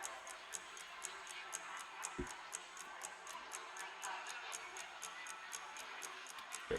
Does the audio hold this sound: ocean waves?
no